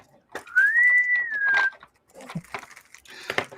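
A pet bird calls from inside its covered cage, giving one clear rising then level whistle-like note of about a second, followed by softer chirps and scratchy rustling.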